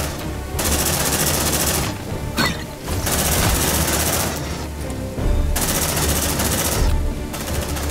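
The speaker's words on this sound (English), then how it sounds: "Shotgun." Sustained rapid gunfire in the Aliens: Dark Descent video game, played on hard difficulty, comes as loud, continuous bursts several seconds long, broken by brief gaps.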